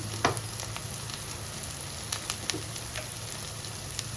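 Spice masala sautéed in a pan in a Bengali kitchen for a pointed gourd and prawn dish, giving a soft, steady sizzle with occasional light clicks of stirring.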